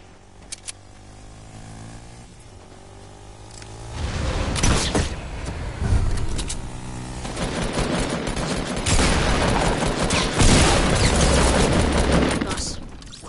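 Gunfire in a PS4 shooter game, opening quietly before breaking into loud, sustained rattling bursts of rapid shots and booms that continue through most of the stretch, with players talking over it.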